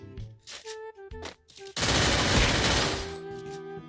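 Burst of rapid gunfire in the mobile battle-royale game Free Fire, a loud dense volley of about a second after a few short tones, ending in a fading tail.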